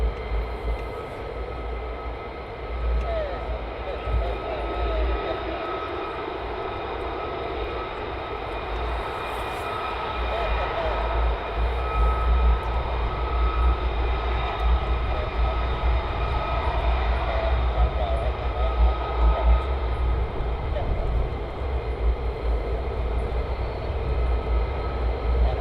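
Military jets, F-35s and F-15s, at RAF Lakenheath produce a steady, broad engine roar that swells slightly louder partway through and holds as a continuous distant-to-mid-range rumble with no talk.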